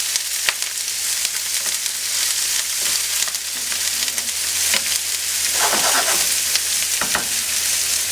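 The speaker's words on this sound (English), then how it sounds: "of olive oil into a skillet over medium-high heat. And then we're going to dump in our onions." Onions sizzling in olive oil in a skillet over medium-high heat, a steady, close, crackling fry with faint scraping as they get stirred, no voices.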